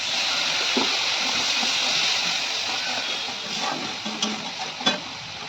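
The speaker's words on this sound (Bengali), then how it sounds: "সামান্য জল দিয়ে দিলাম।" A splashy rush of water poured into a hot pan of cauliflower, potato and paneer curry makes a loud, steady hiss, followed by a few light taps and clinks near the end.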